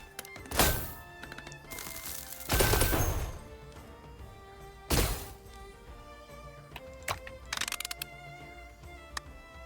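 Automated turrets fire in a fast shooter game, a few scattered loud bursts and thumps separated by quieter stretches, with brief clusters of small shots near the end.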